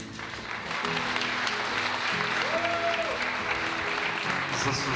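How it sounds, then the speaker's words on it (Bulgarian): Wedding guests applaud steadily, a dense, continuous wash of many hands clapping that fills the room, with faint voices mixed underneath. "Заслужават аплодисменти, заслужават аплодисменти."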